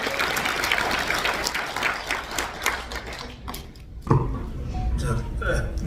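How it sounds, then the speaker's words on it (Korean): Clapping from a seated audience at a Korean political talk event, steady at first and then thinning out before a short burst of crowd noise. "박수 한번 보내주세요."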